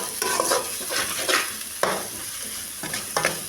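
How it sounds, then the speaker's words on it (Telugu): Ginger garlic paste sizzling with softened onions in a pan for chicken curry, a steady close fry with repeated scraping stirs of a spoon against the pot, no talking. "అల్లం అయితే వేగిపోయిందండి."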